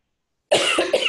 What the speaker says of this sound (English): I'm so sorry about my cough.